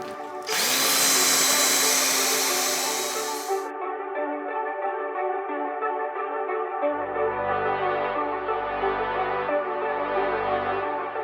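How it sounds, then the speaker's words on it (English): A power drill bores 1/2-inch holes in metal roof rack brackets, starting with a loud high-pitched whine that drops to a steadier lower motor hum as the bit works through, all close by. "We have drilled out all of these bottom holes to 1/2-inch"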